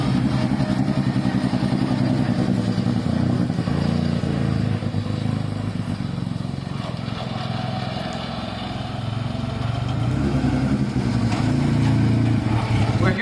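The Deep Orange 9 vehicle's faulty engine, which cannot idle or make power, runs loud and close with a rough, uneven idle, its continuous low chugging rumble carrying a rattling clatter throughout.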